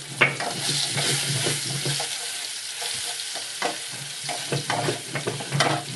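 Chopped onion sizzles in hot oil with bay leaf and black cumin for a fish curry, a steady frying hiss punctuated by scraping stirs and clinks of a utensil throughout.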